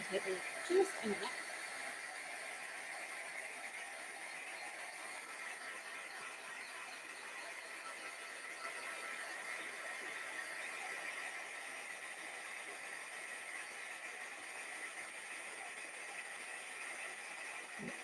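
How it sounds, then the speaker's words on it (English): A heat tool blows steadily while drying paint on a card, giving a faint, even whirring hiss that runs unbroken from start to finish. "I'm going to heat this just to dry it"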